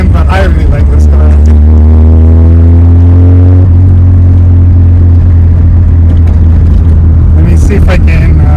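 Engine and exhaust of a modified Mazda FB RX7 on the move, a loud steady rotary drone with rising harmonics as it pulls before settling to a heavy rumble, under a voice talking.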